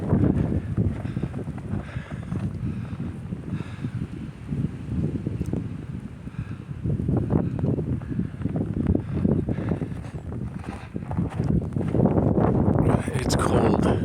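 A Christmas Eve blizzard in Buffalo, New York, with strong wind buffeting the microphone in a continuous low roar under a person talking outdoors.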